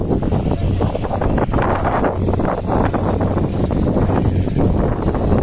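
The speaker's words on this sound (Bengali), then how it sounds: "অতিরিক্ত বাতাস হচ্ছে" Strong wind on the Padma riverbank buffets the microphone in a loud, continuous roar with gusty surges and rustling throughout, no clear talk.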